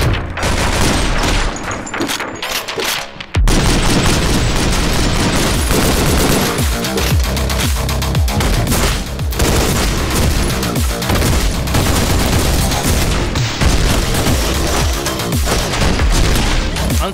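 Shotgun fire in the video game OTXO, a dense barrage of loud gunshot blasts packed closely together and continuing almost without pause after a short quieter gap near the start.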